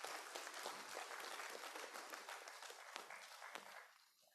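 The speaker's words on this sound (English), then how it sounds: "Can we have a huge round of applause for everyone?" A large audience at a Lions district cabinet installation gives a sustained round of applause, dense steady clapping throughout that fades out near the end, with no talk over it.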